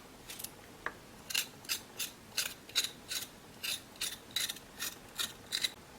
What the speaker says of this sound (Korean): 생강은 이렇게 깨끗이 긁어서 씻었어요